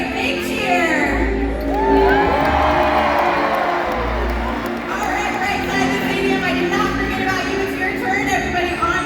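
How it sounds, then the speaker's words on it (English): A SeaWorld Orlando stadium crowd cheers and shouts for a killer whale's jump, a loud, sustained roar of many voices with children's whoops and a voice speaking over the noise. "When you see her, give her a great big cheer."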